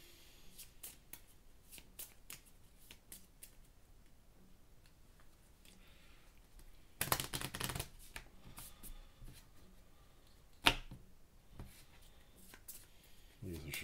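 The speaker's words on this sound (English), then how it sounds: "Then I have to shuffle here." A deck of game cards being shuffled by hand at a tabletop, soft riffling bursts and a brief flurry of fast ruffling, with light ticks and taps between, quiet and close.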